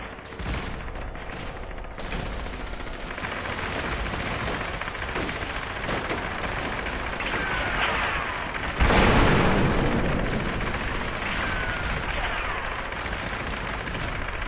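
Gunfire from a weapon in the video game Fallout 76, a dense sustained burst of rapid shots running almost the whole time, loud and close, with a heavier boom-like surge partway through.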